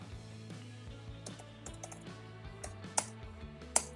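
Quiet, close keystrokes tap on a computer keyboard in an irregular run of clicks, with a couple of sharper key presses near the end and no talking.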